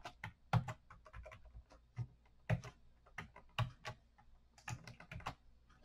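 Close typing on a computer keyboard, irregular bursts of quick crisp key clicks with short pauses between words, fairly quiet and alone.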